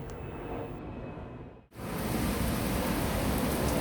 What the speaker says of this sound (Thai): ฝนตกแรงจ้ะ